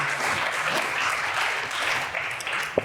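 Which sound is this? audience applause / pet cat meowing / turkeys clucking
audience applause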